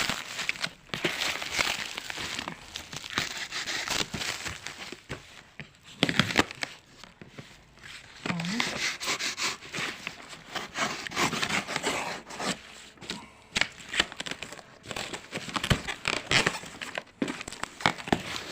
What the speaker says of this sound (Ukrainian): Так приємно розпаковувати те, що ти не знаєш, що там.